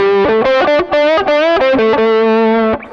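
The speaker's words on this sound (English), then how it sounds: "Wonder how it would sound with a tube screamer added." An electric guitar runs through a Klon clone and a Tube Screamer overdrive, playing a loud, saturated melodic phrase of short and sustained distorted notes, alone and close.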